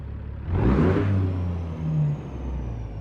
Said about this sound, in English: I like the sound of Caterpillar engines as well.